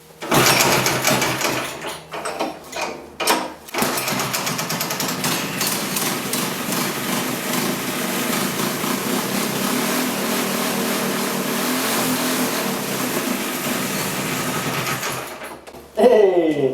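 A go-kart engine sputters through a few rough pulls, then catches and runs loud and close. Its buzzing, high-revving drone holds steady for about twelve seconds and cuts off at the end, when a voice is briefly heard.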